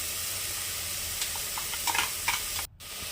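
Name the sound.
spices frying in a pan for chicken curry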